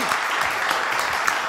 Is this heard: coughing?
no